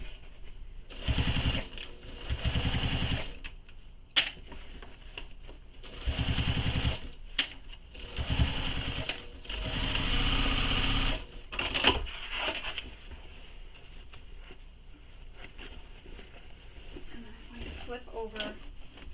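A sewing machine stitches a tote bag in several short bursts that start and stop, close and loud, mixed with a voice talking and some handling thumps; the later part is quieter, with talk and light rustling.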